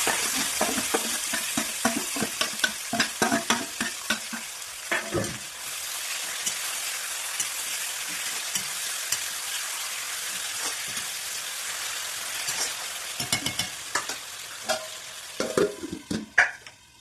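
Chicken pieces frying in a pan with onion and bay leaf, a steady close hiss of hot oil with scraping stirs throughout and clatters of a spoon against the pan.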